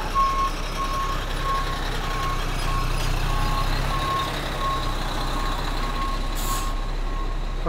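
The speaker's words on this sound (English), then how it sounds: "Fucking garbage truck." A garbage truck reverses on a New York City street, its backup alarm beeping in a steady, evenly spaced series over a constant engine rumble and traffic hum.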